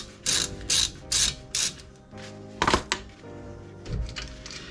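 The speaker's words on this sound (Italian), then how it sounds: "Basterà solamente svitare." Ratchet wrench unscrewing the brake caliper bolts on an Opel Corsa D during a disc and pad replacement, a series of sharp clicking ratchet strokes in quick bursts, close and clear, followed by a couple of metallic clunks.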